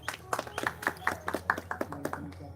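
Hand claps during a live exercise session: about a dozen quick, sharp claps in an uneven rhythm, fairly faint, with a low hum underneath.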